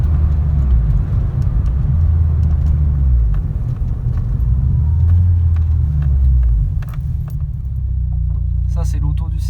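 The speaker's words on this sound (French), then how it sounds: "on n'entend pas le moteur devant, on entend surtout la ligne à l'arrière" A Peugeot 106 GTI S16 with 120 hp idles and revs gently, its rear exhaust line giving a deep, steady rumble that swells slightly midway before settling, heard close with some jangling and a voice speaking over it.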